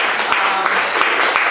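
Brief burst of audience clapping after a poem at a writers conference reading, a short dense patter of hands from a small crowd, close and fairly loud.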